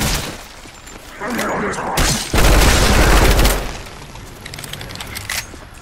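Pistol gunfire in a video game, with a loud, dense burst of shots and crashing impacts that swells and then fades into quieter game noise.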